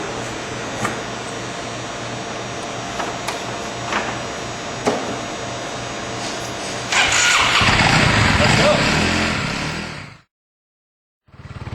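A Hyosung 250cc scooter engine runs steadily while being ridden, then grows louder and rougher as the throttle opens, ending in a sudden cutoff. A few brief clicks and knocks sit over the constant drone.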